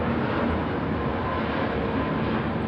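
A broad, steady engine roar fills the air without letup, like a plane passing overhead, loud and continuous with no voices.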